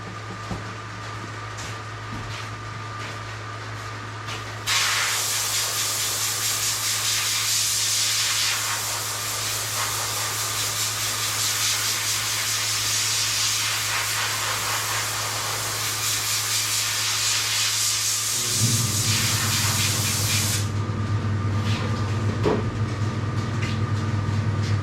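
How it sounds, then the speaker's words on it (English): A shop air hose blows soot off a laser-engraved cork piece, a loud steady hiss of compressed air running for about sixteen seconds over a low mechanical hum, then cutting off. "let me take this thing over to my air hose and blow it off right quick."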